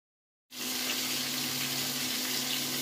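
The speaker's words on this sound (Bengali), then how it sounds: "দেখছেন কড়াইতে তেলের মধ্যে মাছগুলো সুন্দরভাবে ভাজা হচ্ছে" Madhubhola fish frying in oil in a wok, a loud, steady sizzle that starts abruptly and holds without a break.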